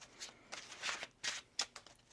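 Tarot cards being shuffled by hand, a quiet run of soft riffling bursts and slaps in quick irregular succession, close and alone with no talk.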